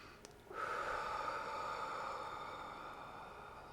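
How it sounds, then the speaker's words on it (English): A slow, deep breath drawn in through the nose and let out in a long, steady exhale, sounding as a close, soft airy rush that swells sharply at the start and then tapers gradually. No one speaks. "let's take a deep breath in through your nose and a longer, slower exhale out through your mouth"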